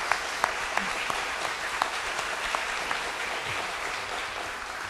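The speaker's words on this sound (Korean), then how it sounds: "한 번 더 박수하겠습니다." A church congregation claps together in welcome at a Sunday service, a steady wash of hand claps filling the room with a few sharper individual claps standing out, moderately loud and with no voices over it.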